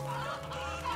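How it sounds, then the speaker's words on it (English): Chickens in the video game MediEvil on PS4 give a brief burst of steady clucking over a constant background hum, lasting about a second. "I kind of want you chickens over there."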